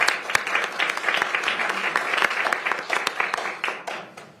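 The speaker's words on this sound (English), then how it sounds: "Let's have a round of applause." Audience applause at a Pierce County Council meeting in Washington, a steady crackle of many hands clapping in a room, fairly close and continuous, with a faint voice underneath.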